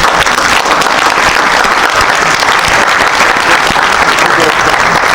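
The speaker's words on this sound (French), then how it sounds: "Vous pouvez l'applaudir, bien sûr." A theatre audience at an outdoor summer show in Cannes breaks into loud, dense, sustained applause, a continuous wash of clapping from a large crowd.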